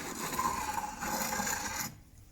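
Steady rasping scrape of a spokeshave shaving curved wood, close up, with a slight skipping texture over gaps, ending abruptly into near silence.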